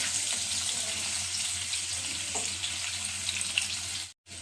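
Long-cut potato strips fry in a pan for a banana flower dish, giving a soft, continuous sizzling hiss at moderate-low level. Faint clinks sound underneath, with a momentary dropout near the end.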